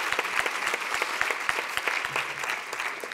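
An award ceremony audience at a respite-care congress claps continuously, with crisp, moderately loud individual claps forming a steady round of applause and faint murmuring underneath.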